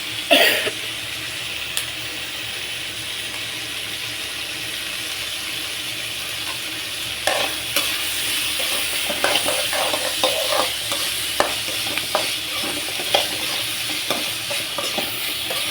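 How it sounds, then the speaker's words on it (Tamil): Tomatoes and onions frying in a pan for a mushroom gravy, with a steady sizzle and scattered scraping stirs that grow busier toward the end. "தக்காளி வெங்காயம் நல்லா வதங்கினாலே அந்த பச்சை வாடை இல்லாமல் பச்சை வாடையெல்லாம் போகும்"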